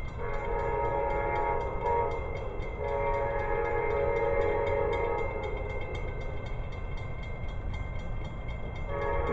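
A train rolls past steadily with a constant rumbling roar, faint horn tones rising and falling through it, the whole sound moderately distant and continuous.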